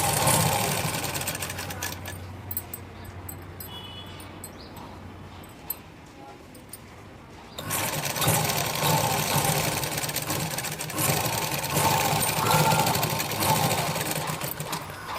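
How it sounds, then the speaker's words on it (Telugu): An electric sewing machine stitches a Punjabi dress with a steady mechanical whir that runs continuously, growing noticeably louder and busier partway through. "కింద పైన సమానంగా ఉందో లేదో చూసుకొని కుట్టుకోండి."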